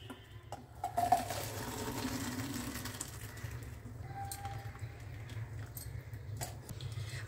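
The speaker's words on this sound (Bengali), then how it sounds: "একটা ছাঁকনি রেখে আমি ছেঁকে নিই" Boiled corn is poured and strained through a metal sieve in a kitchen, with clinks and scrapes of metal, a brief burst of draining water early on, and light rattling over a low background hum, no speech.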